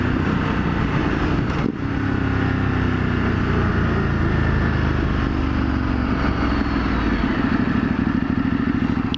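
A multi-cylinder motorcycle fitted with a new exhaust idles steadily and close by, a dense low rumble holding an even level throughout, with one brief dip near the start.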